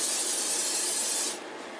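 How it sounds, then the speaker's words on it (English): Cooking spray hisses into a pot in one steady, close, loud burst lasting over a second, then cuts off sharply, leaving quiet kitchen room tone. "I'm going to spray this pot one more time."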